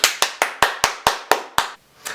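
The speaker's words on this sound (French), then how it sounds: "il faut que je vous applaudisse" Eight crisp, evenly spaced hand claps, loud and close, followed by a short pause and a ninth clap.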